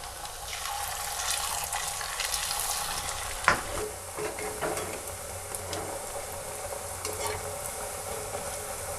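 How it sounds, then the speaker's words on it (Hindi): Puris frying in hot ghee for a Navratri fasting meal, a continuous crackling sizzle with intermittent stirring and one sharper clack of a utensil, close and fairly loud, with no talking. "घी भी अच्छे से गर्म हो गया है। तो चलिए हम इसमें एक एक पूड़ियाँ डाल के हम तलेंगे।"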